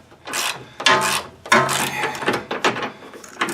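A nut is worked loose on a worn toe link of a 2011 Ford Edge, with close, loud ratcheting clicks and metallic rattles coming in several uneven bursts and no talking.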